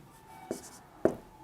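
A pen writes on paper in two brief, soft scratching strokes, close and quiet against a faint background hum.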